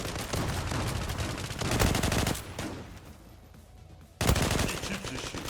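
Rapid bursts of AK-47 fire crack repeatedly in a video game, pausing briefly in the middle before another loud volley resumes; close and sharp.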